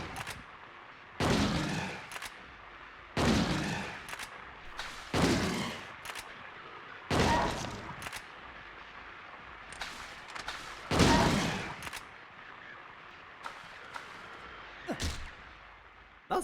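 Shotgun blasts in the video game Silent Hill 2, about seven loud, sharp shots fired a second or two apart in an irregular rhythm, each ringing briefly over a quiet background.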